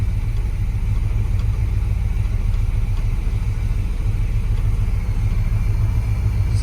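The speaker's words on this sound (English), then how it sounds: "It's idling right now." An old farm truck engine idles steadily, a constant low rumble close by with no revving or changes in pitch, and no voices over it.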